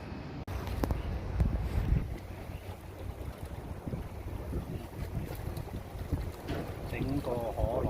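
Sea breeze blowing by the shore, gusty wind buffeting the microphone with a low rumble and faint waves, while people talk over it.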